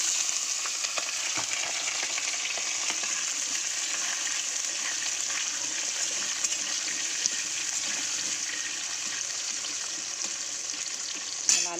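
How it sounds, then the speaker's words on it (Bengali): Potato pieces fry in hot oil with nigella seeds in a kadai, giving a steady, loud, continuous sizzle and crackle from start to finish with no talking. "আলুটাকে একটু লাল লাল করে ভেজে নিই"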